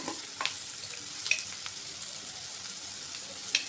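Ginger garlic paste frying in a pan over medium flame, a quiet steady sizzle broken by light scraping stirs and occasional small pops, close and alone.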